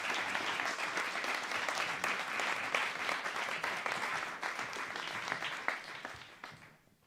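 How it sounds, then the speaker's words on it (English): An award-ceremony audience applauds the Penkridge Runners at regional volunteer awards, giving a full, steady round of clapping that thins and fades away over the last second or so. "please put a massive round of applause together for Penkridge Runners"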